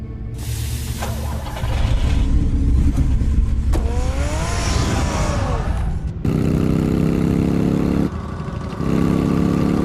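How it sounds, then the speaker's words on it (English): A car engine in Telltale's Batman video game revs and accelerates loudly up close, climbing in pitch through gear shifts before settling into a steady drone, with brief cuts in the sound. "Get the car ready, Alfred"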